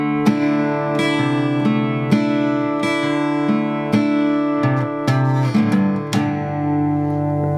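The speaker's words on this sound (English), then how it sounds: "you could do 2 picks, then strum, and then you could add an upstroke right before the bass note." An acoustic guitar plays a pattern alternating picked bass notes with full strums and quick upstrokes in a steady, bright rhythm, close and loud with no voices.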